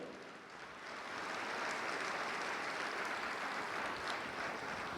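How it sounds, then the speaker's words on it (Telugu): A church congregation at a Christmas jubilee celebration claps loudly, with dense, sustained applause that swells within the first second and holds steady. "గట్టిగా చప్పట్లు కొడుతూ మన గురువులు చేసే సేవలను మనము గుర్తిస్తూ వాళ్ళని గౌరవిస్తూ గట్టిగా చప్పట్లు కొడదాం"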